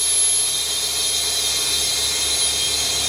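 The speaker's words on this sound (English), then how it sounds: "you won't hear the air come in anymore" Compressed air hisses steadily into a propane tank converted for air storage, a loud continuous rushing noise with no pause, close by and without talk.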